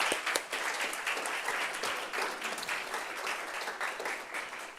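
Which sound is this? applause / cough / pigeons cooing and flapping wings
applause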